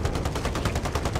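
Rapid automatic gunfire in the Warzone video game during the Operation Monarch event, a fast steady burst of close shots sounding alone.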